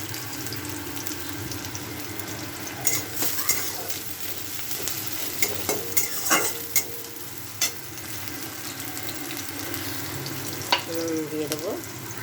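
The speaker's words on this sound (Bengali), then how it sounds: "পেঁয়াজ আর ক্যাপসিকামটা একটু ভাজা ভাজা হয়ে আসলো," Chopped onion and capsicum sizzle steadily in a frying pan for chowmein, with repeated scraping and clinking of a spatula stirring close by.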